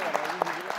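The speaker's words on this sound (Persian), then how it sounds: "دوستا تشویقشان کنه." Studio audience applause on a Persian and Pashto Family Feud–style game show: a steady wash of clapping lasting under a second, with a voice talking over it.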